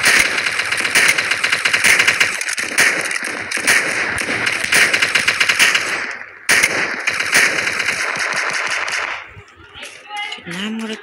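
Video game gunfire chatters in dense, rapid automatic bursts, loud and continuous for most of the stretch with a brief break, then fades to quieter game sounds while someone talks.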